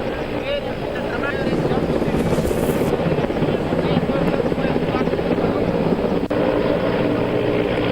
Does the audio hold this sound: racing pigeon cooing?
no